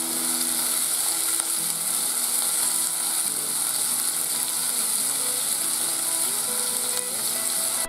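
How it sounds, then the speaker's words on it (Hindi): Chopped tomato cooking in a pan for masala Maggi, giving off a loud, continuous sizzle that holds steady throughout, with faint stirring and a soft musical backing underneath. "कटा हुआ टमाटर, अच्छे से पकाना है इसको।"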